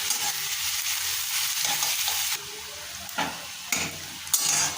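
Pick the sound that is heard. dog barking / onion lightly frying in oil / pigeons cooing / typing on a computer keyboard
onion lightly frying in oil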